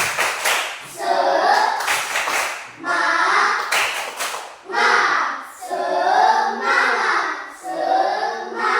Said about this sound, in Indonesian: Oke, tahu tepuk semangat? Oke, kita coba ya. Tepuk semangat.